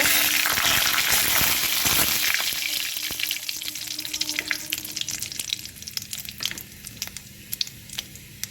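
A bay leaf and panch phoron dropped into hot oil in which vegetables were just fried, for a Bengali shukto: a loud, dense sizzle that hisses strongly at first, then settles into quieter crackling and spitting pops.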